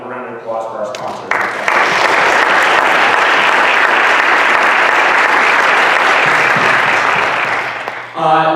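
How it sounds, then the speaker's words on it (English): A conference audience breaks into sustained applause for the event's sponsors, a loud, dense wash of clapping lasting several seconds after a speaker's brief words, fading out as talking resumes. "Let's give a round of applause for our sponsors."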